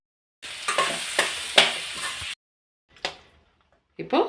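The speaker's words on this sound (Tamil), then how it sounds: "இப்போ இந்த பொட்டேட்டோ எல்லாம் இதில் சேர்த்துக்கலாம்" Potatoes being added and stirred into a frying masala of tomato and salt for masala dosa filling, giving a run of close scraping and sizzling strokes, then a pause and two short stirring bursts.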